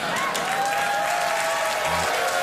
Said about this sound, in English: the audience are showing their appreciation by clapping